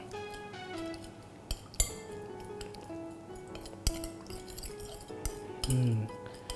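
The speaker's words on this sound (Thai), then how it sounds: "ใช้ช้อนกดน้ำพริกเผาให้กระจายก่อน" Spoon pressing and spreading roasted chili paste in a dish, close clinks and scrapes of metal on the dish with a squishy press near the end.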